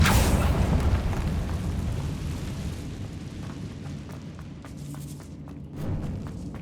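Explosive Confringo spell cast in Hogwarts Legacy, a loud burst with a rumbling boom that fades into a low, steady rumble with faint clatter and a small later swell, no voices.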